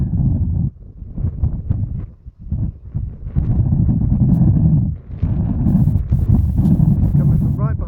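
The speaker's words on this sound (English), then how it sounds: "how windy it is." Strong wind buffets a balcony, roaring and gusting loudly in broad surges that batter the microphone throughout, with brief lulls in between.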